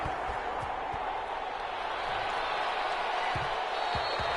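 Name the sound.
stadium crowd in Madden video game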